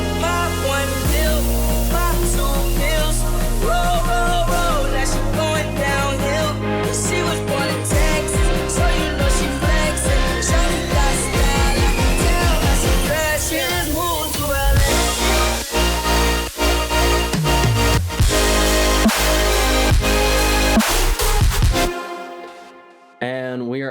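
An EDM remix build-up stacks dense synths and a steady pounding beat, with rising risers sweeping upward and tightening rhythm before everything cuts to near silence just ahead of the drop.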